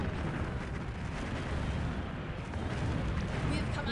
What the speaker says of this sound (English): Shots falling all around.